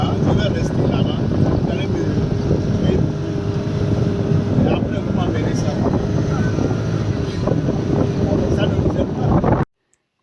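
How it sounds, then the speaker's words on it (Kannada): A motorboat engine drones steadily over rushing water and wind buffeting the microphone, loud and continuous until it cuts off abruptly at the end. "ಬೋಟ್ ಬೋಟ್ನ ಓಡಿಸ್ತಾ ಇದ್ದಾರೆ"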